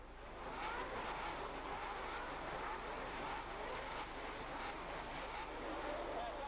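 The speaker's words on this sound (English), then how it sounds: "As the noise rose to a crescendo, the pack took off in a haze of exhaust fumes and tyre smoke" Several 1971 Formula 1 cars roar off the starting grid together, a dense, steady wash of engine noise heard from a distance at moderate level.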